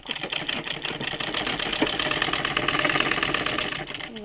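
A sewing machine stitching a dress seam from the middle outward, a steady, rapid mechanical whirring and ticking that runs close and continuous throughout.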